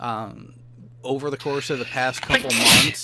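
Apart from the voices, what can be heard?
sneeze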